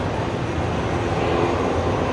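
Qantas flight 939, an airliner bound for Perth, rolls down the runway at Brisbane Airport at night, a loud, continuous broadband engine roar that holds steady throughout.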